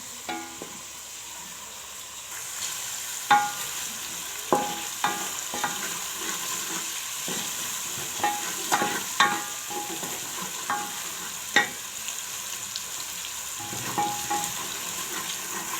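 Mixed vegetables with tomato fry in a pan for aloo moongre, a steady soft sizzle broken by repeated spoon scrapes and knocks, close and fairly quiet, no one speaking.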